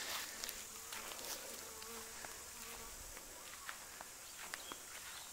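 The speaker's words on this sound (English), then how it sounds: "there's just a few bees just cleaning out some honey there" Bees buzzing around a hive and collecting leftover honey from comb in the lid, a faint, steady hum of many insects with occasional louder passes close by, alone without talk.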